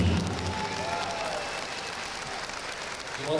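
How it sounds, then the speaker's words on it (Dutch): A fight-event crowd applauds Japanese fighter Nobu Hayashi after a five-round bout against Alexey Ignashov, with a steady, fairly distant wash of clapping and crowd noise throughout. "Maar ook een grote applaus voor die vent die nog keihard voor is blijven gaan."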